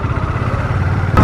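A motorcycle engine runs steadily near a school field, a low, even rumble like idling that holds unchanged, close and fairly loud, with no one talking over it.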